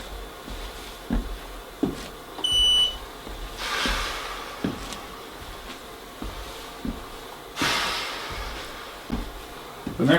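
An exercise machine gives a single short, high electronic beep. Regular dull thumps from steps on an aerobic step and some breathing noise surround it.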